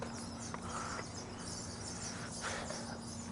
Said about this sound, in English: I hope those birds aren't too loud. Quiet, birds. Stupid sparrows.